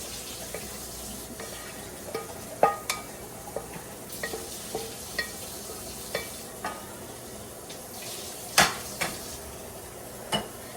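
A spoon stirs pasta sauce with vegetables and meat in a pot, giving soft scraping and occasional clinks against the rim over a low simmering hiss, fairly quiet and steady.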